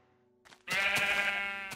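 Sheep bleating in the video game Minecraft, one loud, sustained bleat rising suddenly after a faint lead-in and holding steady close up, alone with no talk over it.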